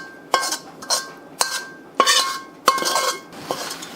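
Beef and rice stick noodle stir fry being served into a bowl and a plate, with about six distinct clinks and scrapes of utensils against dishes at irregular intervals, close and moderately loud.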